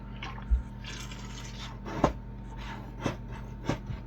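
Water pours over freshly sown seeds in compost in a few separate splashy bursts, fairly close, with a steady low hum underneath and no talking.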